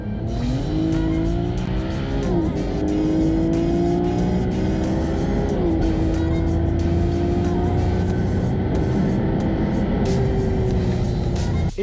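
A tuned BMW 135i with an N54 twin-turbo engine making about 500 bhp and a dual cone intake pulls hard at high speed, a loud, steady engine drone rising in pitch through gear changes with turbo whoosh throughout.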